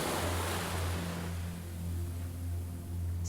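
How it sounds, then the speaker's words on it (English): Ocean waves surge and wash ashore with a broad hissing roar, a low steady rumble underneath, continuous and fairly close with no voices. "matching the rhythm of the waves to the rhythm of your breath"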